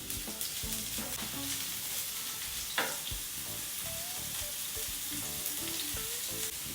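Chopped vegetables, mushrooms and coriander spit and sizzle in hot oil in a pan for a spicy street-style bread omelette, a close continuous crackle with scraping stirs and a sharp clank partway through.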